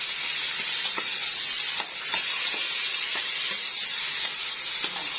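Meat sautéing in a pot before boiling for soup, a continuous loud sizzle and steamy hiss with faint periodic stirring scrapes throughout.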